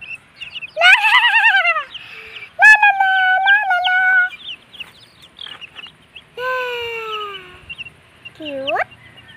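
Chickens calling in a coop, a few loud, close squawks and drawn-out clucks rising and falling in separate bursts with quiet gaps between.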